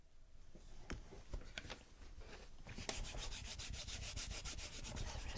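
Close, dry scratchy rubbing as a rub-on transfer is pressed into a canvas, starting with scattered strokes and settling into fast, steady back-and-forth scraping, quiet and alone.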